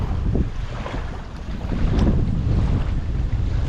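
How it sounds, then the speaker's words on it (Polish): Strong wind buffets the microphone in heavy, rumbling gusts that rise and stay loud throughout. "Ruszył się mocny wiatr i się ściemniło."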